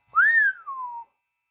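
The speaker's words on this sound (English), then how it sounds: "Chet Morton whistled." A single whistled note from a person rises sharply, holds briefly, then glides slowly downward before stopping, clear and close with no other sound.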